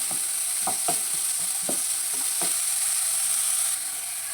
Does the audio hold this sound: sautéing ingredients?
yes